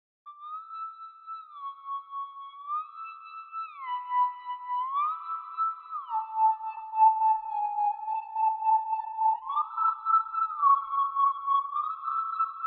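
A whistle-like Serum synth lead processed with Hyper Dimension, EQ, sidechain and reverb plays a slow, gliding melody, each note pulsing rhythmically from sidechain pumping, clean and alone.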